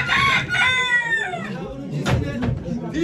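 Chickens crow and cluck up close at a poultry auction in Ankara, loud harmonic calls that rise and fall, mixed with mumbled voices and crowd noise.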